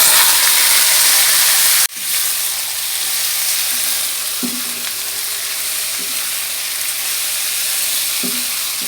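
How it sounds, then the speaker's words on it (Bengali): Leafy greens freshly gathered from a field sizzle and hiss in hot oil with fried garlic and onion, a steady close frying roar with an abrupt burst near the start and a few soft stirring scrapes. "রসুন পেঁয়াজ ভাজা হয়ে গেছে। এখন এর ভিতরে শাক দিয়ে দেব।"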